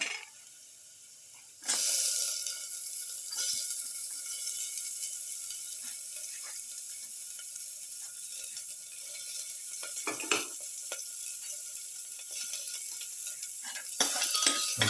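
Shallots sauté in a pan for a garlic lamb chayote pilaf, a continuous close sizzle broken by occasional utensil scrapes and clinks against the pan.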